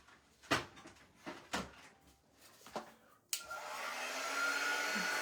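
A hair dryer switches on after several knocks and handling clatters, then blows a steady rising whoosh while drying spring craft decor; close and moderately loud, with no talk.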